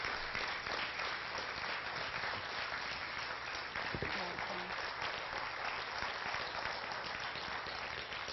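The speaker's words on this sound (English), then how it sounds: "Let's give Joan a nice warm round of applause." Warm, steady applause from an audience at a community mental health resource fair fills the whole stretch with dense, even clapping and no pause.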